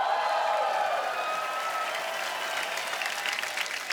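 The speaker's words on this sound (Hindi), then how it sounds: "तो जोरदार तालियां हो जाए।" Loud, dense applause from a TV studio audience at a comedy talk show, sustained throughout and gradually thinning slightly toward the end, with no talk over it.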